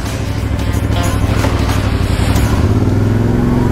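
CFMoto 450MT adventure motorcycle engine running steadily and loud on a test ride, a continuous close drone with slight rises in revs throughout.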